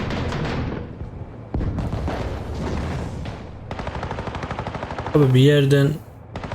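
Rapid machine-gun fire and explosive booms from the War Thunder infantry mode, with someone talking over the shooting and a loud tonal blast near the end.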